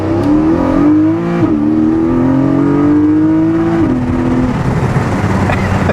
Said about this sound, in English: That is a very loud stock exhaust system.